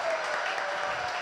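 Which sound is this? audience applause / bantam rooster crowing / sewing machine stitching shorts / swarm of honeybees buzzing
audience applause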